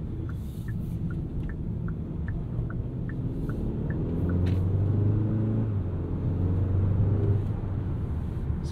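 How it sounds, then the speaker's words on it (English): A 2024 Hyundai Sonata N Line engine hums steadily from inside the cabin, with the low drone dipping and shifting in pitch midway as the 8-speed dual-clutch transmission changes gear, alone with no talk. "Sometimes you can even hear that 8-speed DCT changing gears."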